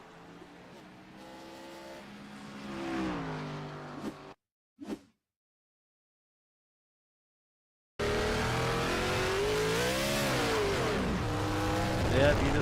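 A race car engine in a racing video game at Watkins Glen, loud and close, revs and shifts in pitch, then cuts out for several seconds except for one short burst, and returns at a harsh, sustained high-RPM scream.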